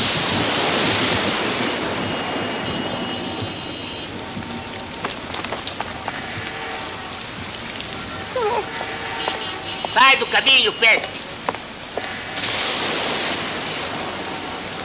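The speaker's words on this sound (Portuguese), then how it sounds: "Detesto ruas molhadas. Detesto o som dos pingos." Rain patters steadily on wet streets, a dense hiss that is loudest at the start and continues beneath brief animated-cartoon voices and squeaky effects.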